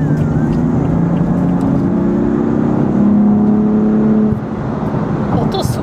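A BMW M4 Coupe in efficient mode accelerating on a Nagoya expressway, its engine a loud, steady interior drone that climbs in pitch, then eases off abruptly with road roar continuing beneath.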